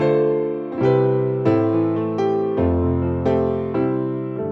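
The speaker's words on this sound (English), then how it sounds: "It is a free piano that comes with SampleTank CS." Sampled grand piano from SampleTank 4 CS playing chords and notes in a slow, steady rhythm, each strike ringing out with rich sustain, clear and close with no voices.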